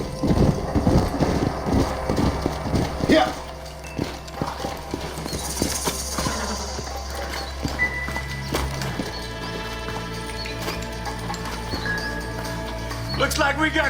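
Horse hooves clip-clopping in the Red Dead Redemption video game, a brisk run of hoofbeats that slows and fades, with brief speech, game music and ambient sounds layered over it.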